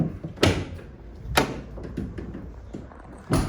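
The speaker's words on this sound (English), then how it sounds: "Let's open those doors up properly." The rear doors of a 2018 Ford Transit L4 H3 2.0 TDCi 350 van open with three sharp metallic clunks of latches and hinges, close by, separated by quieter rattling handling sounds.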